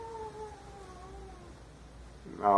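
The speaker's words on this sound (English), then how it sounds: "my cat is sitting in the window crying and screaming at another cat he sees outside that he wants to basically kill" A house cat at a window wails and caterwauls at another cat it sees outside, a drawn-out crying meow of varying pitch that breaks into a louder yowl at the end.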